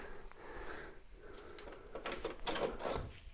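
Rocker cover standoff bolts on a Volkswagen Beetle are backed off with a ratchet, giving close, soft metallic clicking and scraping that grows busier toward the end.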